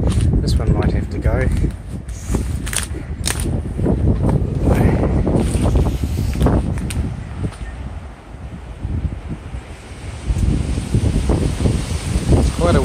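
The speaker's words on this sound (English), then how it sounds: "It's quite a windy day." Gusty wind buffets the microphone in uneven bursts on Waiheke Island, and people talk intermittently underneath the blustery roar.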